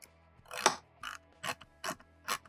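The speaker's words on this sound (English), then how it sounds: "I'm just going to give them a couple little twists with the socket wrench" A socket wrench gives short ratcheting twists to the windscreen bolts on a Kawasaki Ninja 1000SX motorcycle, five quick clicking bursts spaced evenly and heard close with no talk.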